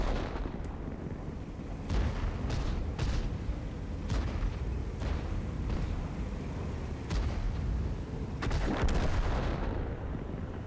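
Repeated booming artillery shots from World of Tanks ranked battle gameplay, several sharp broadband blasts spaced irregularly over a constant rumbling battle backdrop, no talk.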